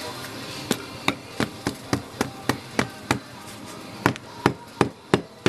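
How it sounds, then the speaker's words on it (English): A hammer taps a Chevy hubcap in a steady run of sharp metallic knocks, roughly two or three per second, close and fairly loud, with no voices. "I'll just tap her out."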